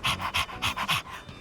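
A dog pants rapidly in Persona 3 Reload, about six quick breathy huffs in a steady rhythm, close and fairly loud.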